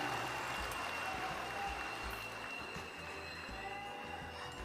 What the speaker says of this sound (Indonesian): Boleh beri tepuk tangan untuk mereka yang bekerja mempersiapkan tadi.